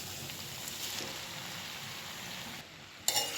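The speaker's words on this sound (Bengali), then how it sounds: "এবার আমি কেটে রাখা পালং শাকগুলো দিয়ে দিচ্ছি" Continuous sizzling of vegetables frying in a hot pan, with a sharp rustle near the end as chopped spinach is stirred in.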